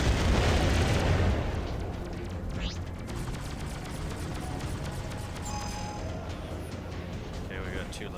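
Torpedoes fire and explode in the space combat game Freelancer, with a loud broadband blast fading into rumbling noise, followed by scattered electronic zaps and beeps in the game's soundscape.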